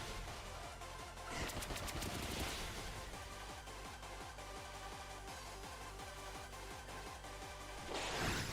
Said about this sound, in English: Oh boy, pin missiles.